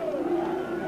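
A football crowd at a Wycombe Wanderers match in the 1990/91 season roars and cheers in a brief, sustained swell of massed voices, heard at a distance.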